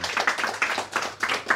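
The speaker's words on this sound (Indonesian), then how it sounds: "Tepuk tangan dulu." Hands clapping in a small audience at a religious talk in Indonesian, a quick irregular run of claps and taps filling the short moment, fairly close and moderate in loudness, with no voices over it.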